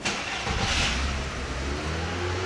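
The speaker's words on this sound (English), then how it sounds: "Right, we still start the engine now." A car engine turns over and fires up during an MOT emissions test, with broad loud mechanical noise and a low steady rumble settling in after the start; no talking.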